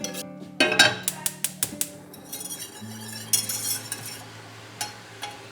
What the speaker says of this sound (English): Whisk that up.